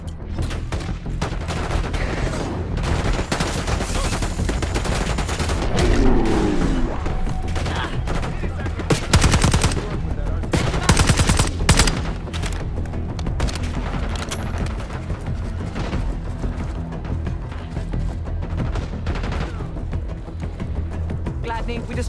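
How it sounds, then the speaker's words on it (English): A continuous firefight in Call of Duty: Black Ops 6, with dense overlapping rifle and automatic gunfire and heavy booms running throughout at close, loud range, while voices speak beneath it. "Exchanging fire!"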